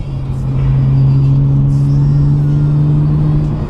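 Close, loud steady engine drone of a BMW E90 sedan under way, a low humming tone holding level as it drives along, with faint cabin noises and no clear speech.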